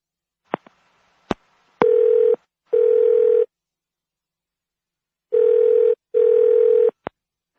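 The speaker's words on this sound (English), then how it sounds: "Now listen to the telephone call" A telephone call begins with a few dialing clicks and beeps, then two pairs of steady electronic ringing tones sound clearly with a pause between them, ending in a short click.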